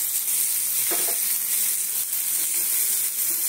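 Chilies sizzle and crackle as they hit hot oil in a frying pan while cooking chili fish, a steady close frying hiss with a brief burst of spattering near the start.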